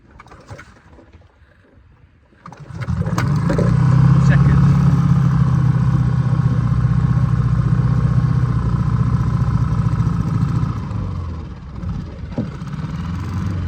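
A petrol outboard engine on a small boat in the Solent fires up after a quiet start and settles into a loud, steady running drone close by, easing slightly near the end.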